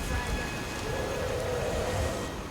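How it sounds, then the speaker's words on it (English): Rain falls in Skyrim during a battle at Fort Sungard, a soft, steady hiss with low rumbles of thunder rolling underneath, fairly quiet and with no voices. "I guess you can't see me through all this rain."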